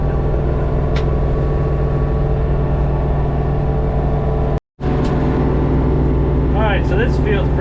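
An LS MT232 tractor engine runs steadily in a field, a loud continuous mechanical drone with a brief dropout midway and faint chirping near the end.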